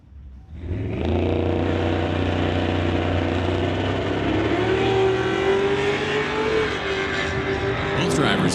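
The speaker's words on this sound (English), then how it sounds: "Drivers clean and green off the line. Camaro in pursuit of the Nova wagon." A Camaro and a Nova wagon launch together off a drag strip line in a loud, sustained engine roar that builds after a brief quiet start and stays steady and close, with a rising engine note near the end.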